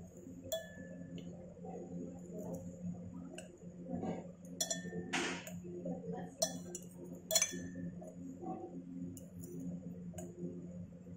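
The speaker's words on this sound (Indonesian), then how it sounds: "Kita bilas kaca arloji dengan Aquades." During lab rinsing, a glass beaker and watch glass give light, scattered clinks and taps against a low steady hum, with a few sharper chinks spread through the stretch and no voices over them.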